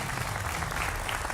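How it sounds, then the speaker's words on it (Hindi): A studio audience at a televised Hindi political debate show applauds steadily throughout, a dense, even wash of clapping with no voices standing out. "और जनता जनार्दन है आपके लिए जोरदार तालियां"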